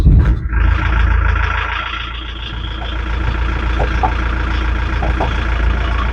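A 1.9 diesel engine, a replacement for the original 1.6, idles in a VW T3 van after a brief start-up clatter, a loud steady low rumble running close by outdoors with no talking.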